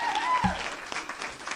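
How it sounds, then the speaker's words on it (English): Short burst of applause effect sent as a gift on an MMO livestream, a brief clatter of clapping with a speaking voice and tones running over it. "I send you that applause."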